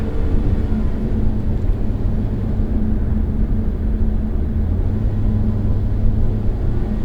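A 2023 Lotus Emira sports car engine drones as a steady, heavy low rumble from inside the cabin, pulling in fourth gear with sluggish shifts, no clear rise or distinct shift break, and no talk.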